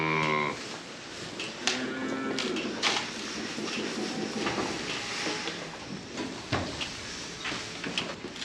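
Cattle moo from nearby, one long low call at the start and another drawn-out bellow soon after, over a noisy outdoor background with scattered knocks and clatter.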